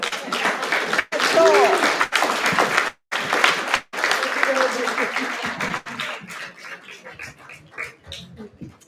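An audience applauds at a Dutch event, clapping that swells and is cut by brief gaps, then thins into scattered claps as it fades, with voices and a cheer heard in the crowd.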